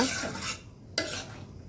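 Okra curry stirred in a pan, a soft scraping stir fading out, then a sharp clink of a spoon against the pan followed by a quieter bubbling sizzle, close and fairly faint.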